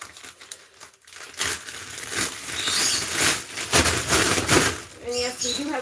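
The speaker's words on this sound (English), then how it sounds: "Put our litter box liner." A plastic litter box liner is handled during cleaning of a lovebird cage, giving loud, continuous crinkling and rustling close by, with short bursts and a brief pause near the start.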